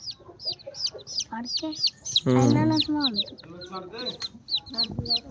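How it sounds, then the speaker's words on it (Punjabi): Several home-breed chickens and chicks cluck and chirp in quick bursts nearby, with a person talking briefly over them partway through. "ਇਹ ਦੋਨੋਂ ਬੱਚੇ ਆਪਣੇ ਮੁਰਗੀ ਦੇ ਜੀ ਹੋਮ ਬਰੀਡ ਆ"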